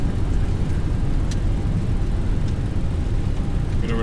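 Simulated thrust reversers on a Boeing 737-700 landing in X-Plane 11 produce a steady, heavy low roar of engine noise that holds evenly from start to finish.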